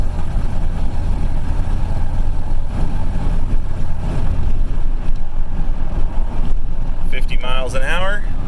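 A rescued 1988 GMC Sierra pickup, long left sitting before a new fuel system, cruises down the road with a steady loud engine and road rumble throughout, and a voice briefly speaks over it near the end.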